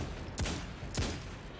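Gunfire in the video game Destiny 2, two sharp loud shots about half a second apart, each with a short ringing tail over a steady low background.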